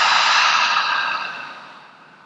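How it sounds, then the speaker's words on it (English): A single slow breath exhaled through the mouth during a mindfulness meditation, a soft breathy airy rush that starts full and close, then gradually fades over about two seconds, heard alone. "Exhale through your mouth."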